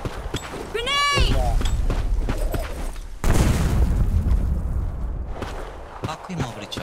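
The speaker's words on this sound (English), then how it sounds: "Grenade!" A grenade blast in the online shooter Black Squad bursts into a loud, broad boom partway through, with rumbling game noise and scattered explosive sounds around it and a voice shouting over the start.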